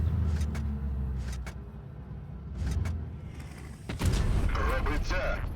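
Heavy cannon shots from tanks in a video game, a few deep booming blasts at intervals amid a dense rumbling engine and battle mix, with a louder burst of activity near the end.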